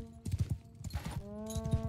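Horse hooves clip-clopping in the video game BLT Kingdom Maker, a quick uneven rhythm of hoof strikes with a horse's whinny partway through and a sustained musical tone underneath.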